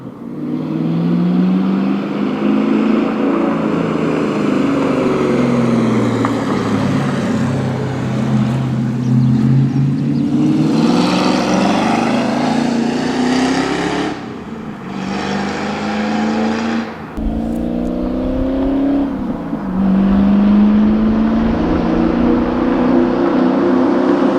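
A 1993 Ford Mustang LX 5.0 five-speed convertible engine roars continuously, climbing and falling through gears while driving, with loud, close exhaust and shifts between rising pulls.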